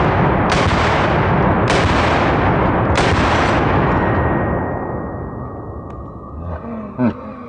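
M1 Garand rifle shots outdoors, three loud, sharp reports about a second apart with long rumbling echoes that fade into the open air, and a faint metallic ping toward the end.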